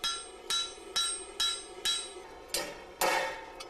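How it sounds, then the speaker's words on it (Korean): A hammer striking a heated iron lump to flatten it into plate for iron armor, seven sharp ringing blows in a fairly even rhythm, close and loud with brief decays between hits. "철갑옷 제작의 첫 단계는 불에 달군 쇳덩이를 여러 번 두드려 철판으로 만드는"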